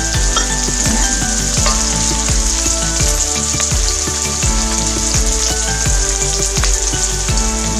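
Onion and garlic sauté in a pan for a seafood curry with coconut milk. A loud, steady, close sizzle and crackle runs throughout, with faint stirring clicks and no talking.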